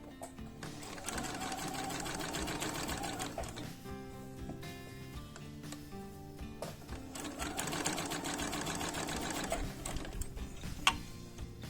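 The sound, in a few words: sewing machine stitching the diagonal of a quilt square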